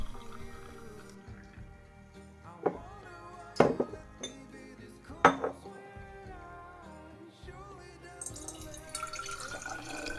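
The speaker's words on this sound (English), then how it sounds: "And then I fill my jars with my kombucha." Homemade kombucha poured into glass jars in a kitchen, a soft trickle of liquid with a few sharp clinks of glass as the jars are handled and filled.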